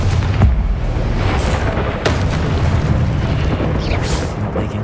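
Deep booming blasts from a Confringo fire spell in Hogwarts Legacy, a loud rumbling explosion with sharp cracks layered over continuous heavy low roar.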